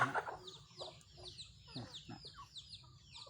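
Chickens cluck in short repeated bursts, with faint bird chirps and some background voices mixed in; the birds include a red-ruby colored gamecock.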